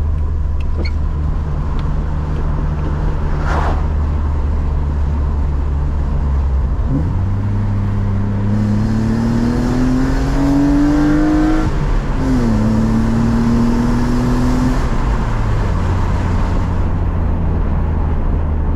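A BMW E36 engine drones steadily with windows down, then revs up with quick rev-matching blips between gears, the pitch rising, dropping and rising again, loud and close.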